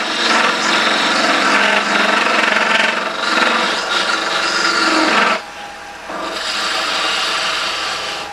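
Wood turning on a lathe with the tool's sides scraping during an offset finishing cut: a loud, continuous rasping scrape holding steady for about five seconds, dropping briefly, then resuming slightly softer.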